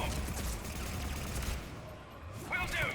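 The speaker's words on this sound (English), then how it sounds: "Who the hell just shot at me from there?" Gunfire aimed at the player in Mass Effect 3 crackles as a rapid, dense volley of shots, fairly close and loud, pausing briefly before another burst near the end.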